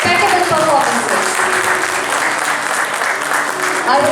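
Loud, steady applause from an audience at a school literary fest after student performances, continuous throughout with a faint voice briefly audible beneath it.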